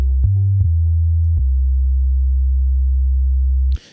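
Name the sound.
sine wave previewed in Rapture Pro synth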